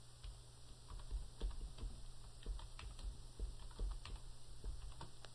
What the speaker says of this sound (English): When I get it typed in, I'll press Enter.